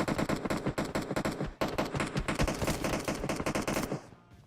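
Rapid automatic gunfire in PUBG Mobile on the Erangel map, fired from a tower, rattles in dense close bursts with a brief pause near the middle before trailing off at the end.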